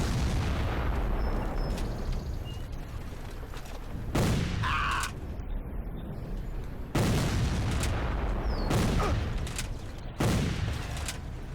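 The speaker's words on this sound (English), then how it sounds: "This guy's shooting me through trees." Rifle gunfire in a Civil War video game: repeated loud volleys and single shots ring out over a constant battlefield din, with no voices.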